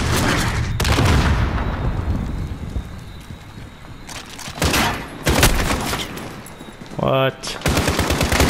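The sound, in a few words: gunfire in video game Call of Duty Modern Warfare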